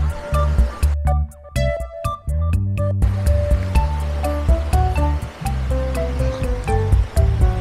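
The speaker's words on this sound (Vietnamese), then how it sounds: "sóng biển rì rào" Sea waves on Phu Quoc beach wash in steadily as a soft, continuous surf under prominent background music.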